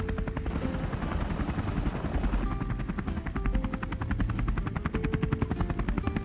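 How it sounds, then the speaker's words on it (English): An Airbus H145M twin-engine military helicopter with loud, rapid rotor chop pulsing steadily over a heavy engine and turbine roar, heard up close with no talk. "This is an Airbus H145M helicopter."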